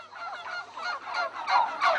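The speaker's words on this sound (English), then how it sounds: "Arriving also from the New World, still called the Indies, the plump India hen began its reign as master of poultry farms of the Renaissance." A plump domestic turkey gobbles in a farmyard, giving repeated warbling calls that are moderately loud and rise into stronger bursts toward the end, with no talking.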